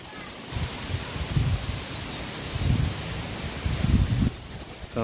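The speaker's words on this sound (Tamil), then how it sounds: "இதில் காற்றடிக்குது" Wind gusts rush and buffet the microphone outdoors in a village setting ahead of expected rain, a broad rustling roar swelling and easing in waves.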